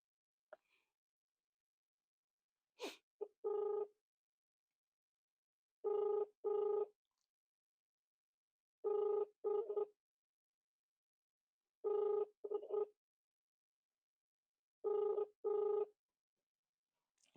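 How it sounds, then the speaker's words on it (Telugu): A telephone rings on a call to an excise office, five evenly spaced double-burst rings in otherwise near silence. "రింగ్ అయితా ఉంది."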